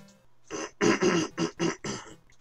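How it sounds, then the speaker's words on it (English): A person clears their throat in a run of about five harsh, close rasping bursts against a quiet background. "Clear my throat."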